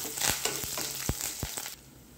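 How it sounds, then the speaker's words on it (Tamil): Sizzling in a hot pan with several sharp scraping strokes as curry leaves and other ingredients are stirred and roasted, close and fairly quiet, ending abruptly. "எல்லாத்தையும் நல்லா வறுத்து வச்சுக்கலாம்."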